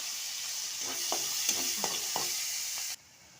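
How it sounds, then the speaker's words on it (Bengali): Green chillies and onions fry in oil in a pan, a steady bright sizzle with a few spatula scrapes, ending abruptly near the close. "কাঁচামরিচ পেঁয়াজগুলো ভালোভাবে ভেজে নিচ্ছি"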